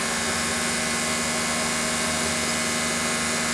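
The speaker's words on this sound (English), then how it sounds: "So we're going to mill some aluminum." A mini milling machine grinds through aluminum at 1170 RPM, a loud, unbroken, dense mechanical whine and hum with steady tonal layers throughout.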